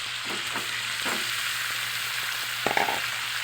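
Onions frying in a pan for chicken steak, a steady close hiss of sizzling oil throughout, with a few soft taps and scrapes of stirring, the last ones a bit louder near the end.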